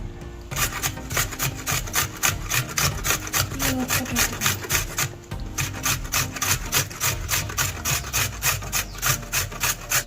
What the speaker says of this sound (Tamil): பீட்ரூட்டை நம்ம இங்கே பாருங்கள், அழகாக வந்து சூப்பராக நம்ம கட் பண்ணியாச்சு, சீச்சாச்சு